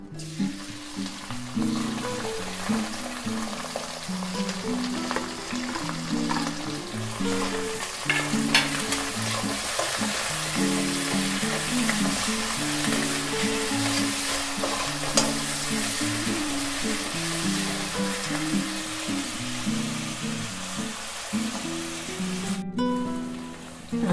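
Onions frying with cinnamon, cloves and bay leaf in hot oil for appalam kuzhambu give a continuous crackling sizzle with rhythmic scraping stirs, close and steady for the whole stretch.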